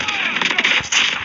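Continuous loud gunfire sounds from a Call of Duty match, a brief dense burst of shots heard up close.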